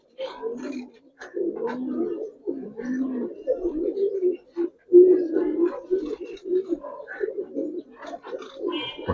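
Giribaz and Bagha pigeons coo in repeated soft, throaty bursts close by, with brief pauses between phrases and a few sharper chirps mixed in.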